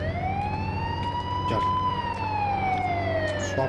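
A police car siren wails in the mobile game Indian Bike Driving 3D, one long rising-and-falling tone sounding loud and continuous with a steady engine hum beneath it.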